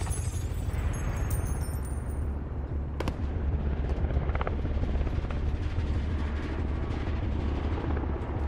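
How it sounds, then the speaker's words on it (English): An attack helicopter in a PC military video game flies overhead as a loud, steady rotor rumble that fills the whole clip, with scattered bursts and pops of game combat. "Attack chopper is in the AO."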